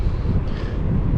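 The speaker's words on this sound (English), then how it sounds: "As you can tell, it's bloody windy" Strong wind gusting outdoors at the Pool of Siloam in South Australia, a steady loud low roar buffeting the microphone throughout with no break.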